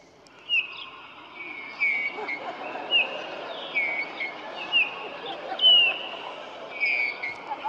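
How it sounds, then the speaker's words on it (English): Birds sing outdoors in a steady sequence of bright, repeated whistled phrases over a soft background hiss, moderately near and unaccompanied by speech. "Listen to the birds."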